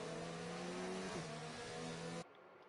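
F1 race cars battling wheel to wheel on the China Grand Prix circuit in the F1 2019 video game, a steady loud high engine whine with shifting pitch that cuts off abruptly near the end.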